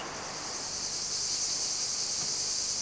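Crickets sing in a dense, continuous high chirring that holds steady throughout, with no voices, near terraced olive groves on a river valley slope.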